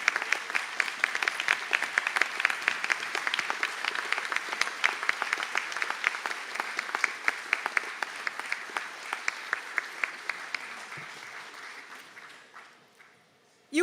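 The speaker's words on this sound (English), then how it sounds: "give your supporters a little round of applause" A graduation conferring ceremony audience gives applause for supporters: a dense, steady burst of many hands clapping that fills the hall, then thins and fades out toward the end.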